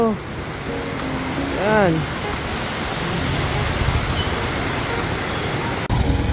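Heavy rain pours steadily in a loud, continuous broadband hiss that fills the whole stretch, with a brief spoken word near the start and a short vocal sound partway through.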